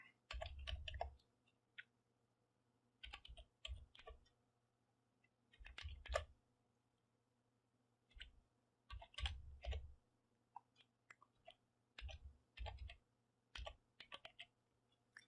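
Short bursts of clicking keystrokes on a computer keyboard as a web address is typed, irregular clusters with pauses between them over a low steady hum, close and fairly quiet.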